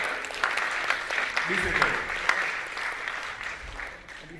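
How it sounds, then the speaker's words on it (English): An audience at a motivational talk claps together, a burst of applause that swells and then fades over a few seconds while someone speaks over it. "Can you give yourself a big applause?"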